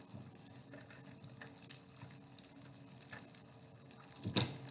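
An egg fries in butter and oil in a non-stick pan, giving a soft, steady sizzle with faint crackles and a brief clatter near the end.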